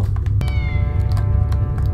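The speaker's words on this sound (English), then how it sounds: "Can you see my kitten? I hear her down there meowing!" A kitten in a Harry Potter video game gives a short, clear meow over a loud, low rumbling game background, with a few soft clicks scattered around it.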